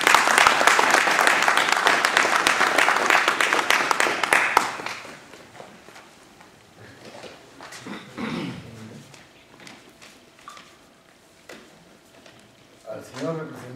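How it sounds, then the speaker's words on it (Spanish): Audience applause for a beekeeper at an event of beekeepers in Paracas, Peru: dense, loud clapping from a crowd that fades after several seconds, followed by someone speaking and a dog audibly growling and whimpering nearby. "recibimos un fuerte aplauso"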